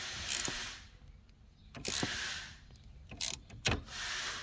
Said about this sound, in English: So torquing the bolts, basically you just tighten it until